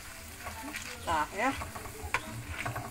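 Shallot peanuts (kacang bawang) frying crisply in hot oil as a steady, crackling sizzle with stirring, while a nearby voice talks briefly over it.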